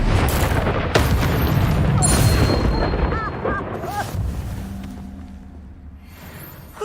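In the game Hogwarts Legacy, an Incendiary spell explodes in a heavy booming blast that rolls out and fades, amid combat clatter and brief game voices.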